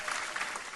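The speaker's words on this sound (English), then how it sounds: "Give him another round of applause" A crowd applauds steadily, with clapping that is moderately faint and continuous through the brief moment.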